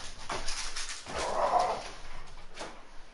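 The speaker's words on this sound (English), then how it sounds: "Is that your dog?" A dog whimpers and gives a few muffled barks nearby over steady outdoor background noise, the whine rising briefly in the middle.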